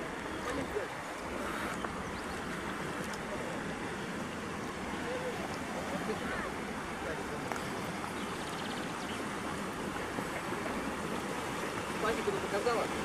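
A river stream rushes steadily near the waterfalls of the Zhane River by Gelendzhik, a close, continuous wash of flowing water with occasional voices talking over it.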